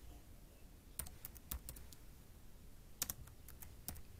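Keys are typed on a computer keyboard in two short bursts of quiet, close clicks separated by a pause, with a faint room hiss behind and no talking.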